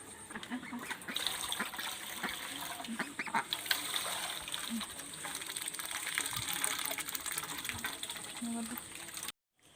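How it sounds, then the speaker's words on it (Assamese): Domestic ducks being fed grain and water, a dense continuous quacking and honking chatter from a nearby flock, with a voice talking faintly underneath before it cuts off abruptly at the end. "অথনি হাঁহক দানা পানী দিলোঁ"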